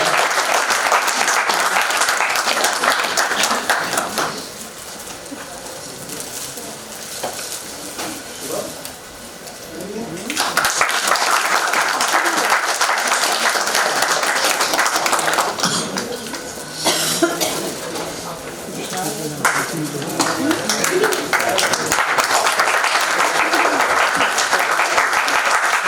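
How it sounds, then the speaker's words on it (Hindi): Audience at a stage play applauding loudly to welcome guests, a sustained burst that dips briefly and then swells again, with scattered coughs and background noise. "एक बार जोरदार ताली से स्वागत हमारे अतिथियों का"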